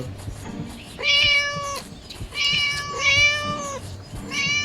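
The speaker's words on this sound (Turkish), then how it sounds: "Bu kedinin sesi nereden geliyor?" A cat meows repeatedly in a garden, several drawn-out tonal cries in a row, fairly close and loud, with faint background noise between calls.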